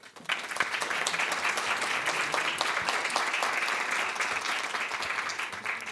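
Steady audience applause fills a panel session on teacher-training policy for early childhood education in Mendoza, Argentina: dense, continuous clapping from a seated crowd that holds evenly for several seconds, then tapers off at the end.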